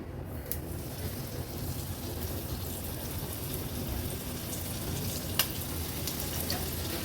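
Mackerel (bangda) fish frying in hot oil, a steady dense sizzle and crackle that stays even from start to finish, with a few sharp pops. No voices are heard.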